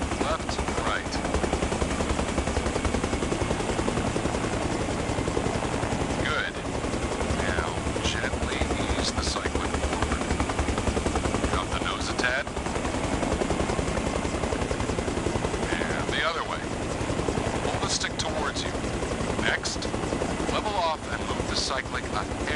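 Helicopter rotors drone steadily in the Arma video game, a continuous engine and blade roar with periodic sharp bursts and clicks, while someone talks over it.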